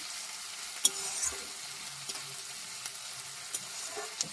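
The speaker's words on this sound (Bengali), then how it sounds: "পেঁয়াজটাকে ভালোভাবে ভেজে নেব।" Chopped onions with two dried red chillies frying in oil, a soft, steady sizzle with occasional light stirring clicks, fairly quiet and close with no voices.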